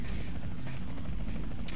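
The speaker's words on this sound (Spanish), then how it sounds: "¿ves que se escucha el ruido del helicóptero?" A helicopter approaching in the video game Resident Evil 4, a steady low rotor drone with rhythmic thumping that holds at a constant moderate level, heard alone.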